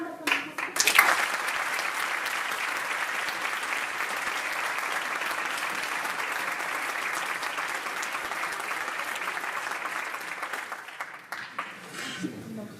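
Sustained, loud applause rises from the audience at a mock trial of Serge Gainsbourg, holding steady for many seconds before thinning out toward the end.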